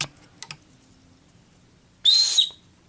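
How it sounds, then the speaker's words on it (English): A single sharp, shrill whistle blast from a survival whistle on a lanyard, short and piercing, after a few faint clicks and handling noises. "got a whistle attached to a lanyard"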